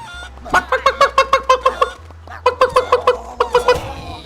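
Video game chicken clucks from Guacamelee in two rapid rhythmic bursts, close and loud, with a steady low electronic hum beneath and brief murmurs between.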